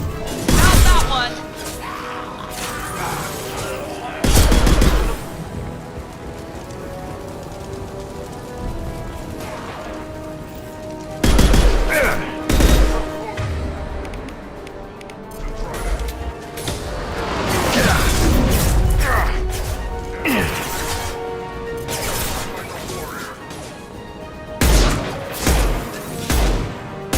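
Gunfire and impacts in a Mass Effect 2 firefight on Insanity difficulty, with shotgun blasts: loud bursts recurring irregularly through a busy combat mix, under intermittent talk.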